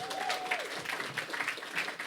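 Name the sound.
audience applause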